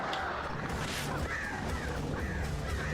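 Crows cawing in an attack during the video game Alan Wake Remastered: repeated harsh caws over a dense, steady layer of game noise, loud and close, with no talk.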